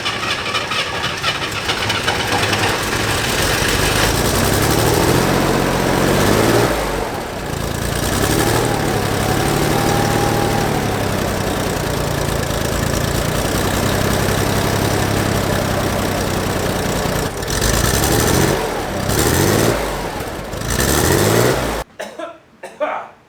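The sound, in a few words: flat-six car engine idling with factory OEM exhaust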